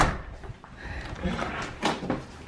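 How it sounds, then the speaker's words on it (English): A small child opens a door at home with a few close clunks and latch rattles, while adults react softly nearby. "You just wanted to open the door all by yourself."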